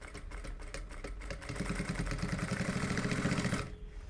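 A sewing machine stitches a DIY shopping bag in a fast, even mechanical whirr. The run rises in loudness partway through, holds steady, then stops abruptly near the end, close up with no talking.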